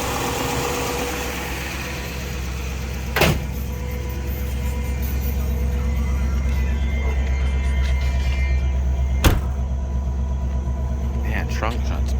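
A 1957 Oldsmobile 88 Holiday Golden Rocket engine rumbles steadily nearby, idling and then driving around the block, with faint voices in the background and a couple of sharp clicks.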